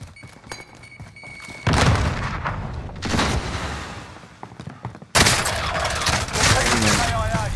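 Heavy gunfire and thudding impacts in the video game Call of Duty: Modern Warfare, loud bursts that cut in and out across the clip, with a short radio voice mixed in.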